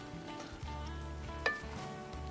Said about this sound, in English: I'm going to take my meat and drop it in on top.